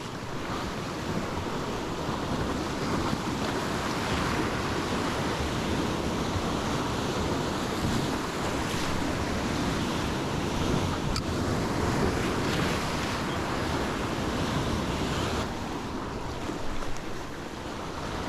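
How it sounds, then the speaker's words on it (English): Turbulent, choppy sea water and surf wash steadily around a fishing spot, a dense continuous roar of churning waves with wind buffeting the microphone throughout, no voices. "the water is so turbulent and so choppy"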